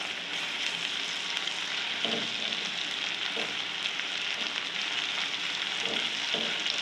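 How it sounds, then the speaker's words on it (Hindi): Browned onions with garlic ginger paste fry in a pan, giving a steady, close hiss of sizzling with a few soft stirring scrapes and no talk. "प्याज इतना ही ब्राउन करना है। और अभी इसमें डालूँगी लहसुन अदरक का पेस्ट"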